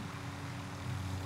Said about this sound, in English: There's a fucking plane.